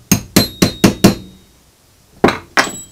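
Metal fork parts being beaten in with a dolly during a motorcycle fork rebuild: five sharp, ringing hammer blows in a steady rhythm, a pause, then two more strikes, loud and close with no talking.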